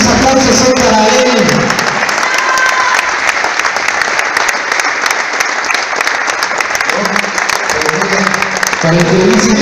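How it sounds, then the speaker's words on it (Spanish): Sustained crowd applause offered as a tribute at a gathering honoring a wrestler, steady and loud throughout with a few voices rising near the start and end. "Estos aplausos son para él."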